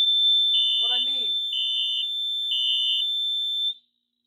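A Firelite MS4424B fire alarm panel's piezo sounds a steady high beep pulsing in three bursts, with a brief descending tone near the start, before the sound cuts off abruptly after nearly four seconds.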